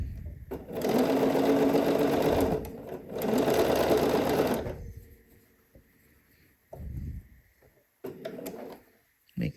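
A sewing machine stitches a dress seam in two long, loud, close runs separated by a short pause, followed by quieter handling noises and a brief restart.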